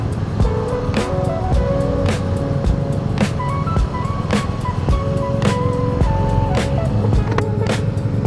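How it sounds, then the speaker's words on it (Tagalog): Dense, heavy road traffic fills the air with a steady rumble of engines, punctuated by repeated short horn beeps and passing vehicles, close and continuous throughout. "Ang hectic ng traffic"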